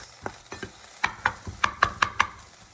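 Onions sauté in a pan for broccoli cheddar soup, a spatula scraping and tapping in a quick uneven rhythm over a soft, low sizzle.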